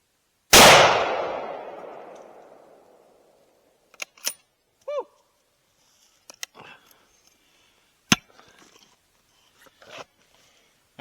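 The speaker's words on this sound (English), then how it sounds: "We're shooting out of this nice Savage 110 270." A Savage 110 rifle chambered in .270 fires once at an AC compressor at a range, a loud close blast with a long decaying tail, followed by scattered clicks and clanks of handling.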